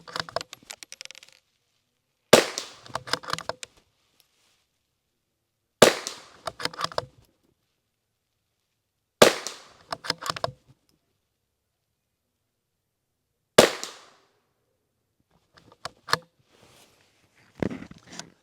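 A CZ 457 varmint rifle firing Federal Ultra Match ammunition on a shooting range: sharp, fairly quiet reports spaced several seconds apart, each followed by a brief rattle, with silence in between.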